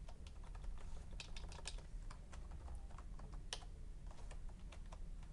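Keys clatter steadily on a computer keyboard during a Linux software install, soft and close, with brief pauses between runs of keystrokes and a faint hum underneath.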